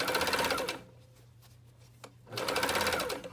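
A sewing machine stitches the gusset seam on Greenstyle Super G tights in a rapid, steady whir, pauses for about a second and a half with a small click, then runs again at full speed close by.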